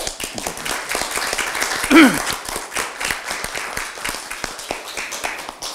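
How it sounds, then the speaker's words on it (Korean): Applause from committee members at a party leadership and national committee chairs' joint meeting, a steady crowd clapping sustained across several seconds with a louder bump near the middle. "최고위원 여러분 박수 한번."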